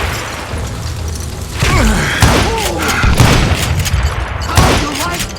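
Gunfire in the Western shooter Call of Juarez: Gunslinger, several heavy booming shots spaced irregularly over game music and ambience, with a voice speaking between them.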